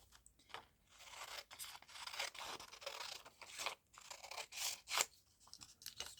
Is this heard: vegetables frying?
no